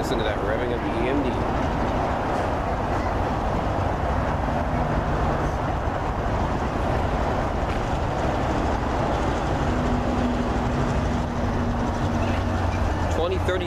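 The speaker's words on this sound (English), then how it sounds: "Listen to that revving of the EMD." An EMD diesel locomotive engine, a rebuilt CSX unit, revs and drones loudly and steadily throughout, a dense, rumbling roar with low throbbing tones and no clear pauses.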